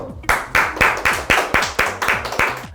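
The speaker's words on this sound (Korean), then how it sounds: "박수!" About nine sharp, evenly spaced hand claps from a single person, close and loud, each a crisp separate burst in a steady rhythm.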